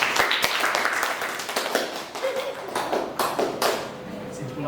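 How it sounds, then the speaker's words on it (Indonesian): Scattered clapping from a small group in a classroom setting, a few sharp claps then uneven patter that thins and picks up again, with some voices in the background. "Tepuk tangan buat"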